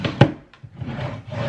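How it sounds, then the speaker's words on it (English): Wooden IKEA furniture drawers pulled open, a sharp knock followed by sliding, rubbing scrapes, close and moderately loud with no talking. "I did it, and like the drawers pull out."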